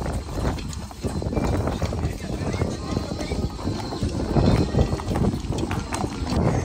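A horse's hooves clop steadily on the ground as it is ridden outdoors, mixed with wind noise and people talking over the sound.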